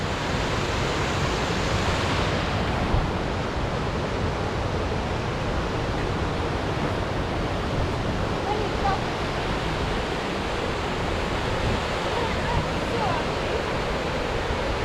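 A mountain creek runs through a canyon in the Beartooth Mountains of Montana, giving a steady, broad rushing wash of water that holds even and close throughout.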